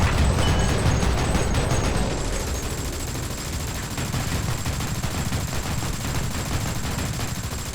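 Sustained automatic gunfire from a giant mech's guns in War Thunder's April Fools mode, a dense loud rapid stream of shots that roars through the whole stretch without pause.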